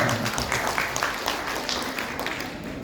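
In Bali, an audience applauds a singer with a steady wash of clapping at moderate volume that eases slightly toward the end.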